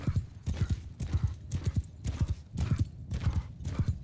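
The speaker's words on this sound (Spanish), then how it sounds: "tengo el mejor caballo posible" A horse galloping in the medieval combat game Mount and Blade 2 Bannerlord, with steady rhythmic clip-clop hoofbeats in repeated groups, close and loud, with faint background noise and no talking.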